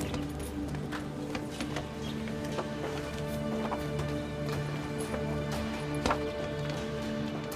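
A horse's hooves clip-clop in a steady rhythmic pattern, close and moderately loud, over a constant low background hum.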